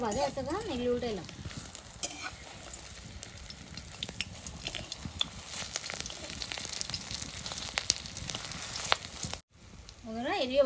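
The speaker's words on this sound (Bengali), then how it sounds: "এক মোড়া ভাজা আছে, এগুলি উল্টাইলাম।" Shefali leaf chops frying in oil in a village kitchen, a steady crackling sizzle that runs continuously at moderate level, with a brief break near the end; a voice is heard faintly at the start and end.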